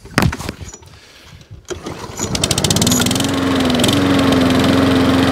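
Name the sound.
repaired lawn mower engine running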